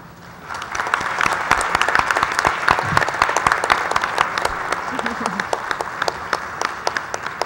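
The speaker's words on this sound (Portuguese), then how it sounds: "fiquem de pé para receber os aplausos de todos nós que estamos aqui" Audience clapping for an honoree at a solemn ceremony marking ten years of a medical course, a dense steady roll of many hands that swells after a quiet start and holds loud for several seconds.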